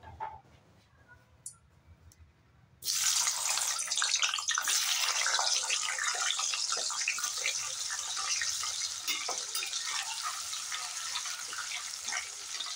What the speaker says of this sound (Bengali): তেল ভালো করে গরম করে নিয়েছি, আলু ভেজে নেব।